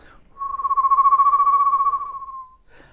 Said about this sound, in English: I can actually now whistle with rattling the back of my palate as well